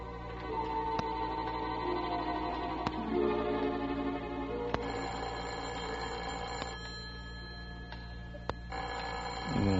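An old-time radio drama telephone gives repeated sharp bell rings at intervals over a steady ticking clock and a low background music bed.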